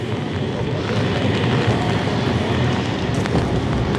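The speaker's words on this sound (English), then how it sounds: "It's too windy" Gusty wind buffets a microphone outdoors in a city street in Amsterdam during stormy weather, a steady loud broadband roar with low rumbling gusts throughout and no speech.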